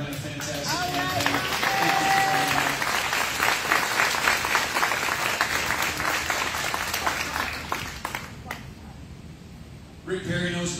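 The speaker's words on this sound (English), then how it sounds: "A round of applause for a man who ran a fantastic campaign." A crowd at a political campaign event applauds, a dense wash of clapping that holds steady for most of the stretch, thins out and fades near the end, then picks up briefly at the close.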